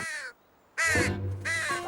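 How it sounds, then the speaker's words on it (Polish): Crows caw as a sound effect in a children's story, with three harsh, close caws in quick succession and no voices. "W pewnej chwili nadleciały dwie wrony i zaczęły dziobać jego roślinki."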